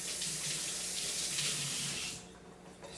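Kitchen tap running as egg is rinsed off fingers, a steady splashing hiss of water that cuts off after about two seconds, close by.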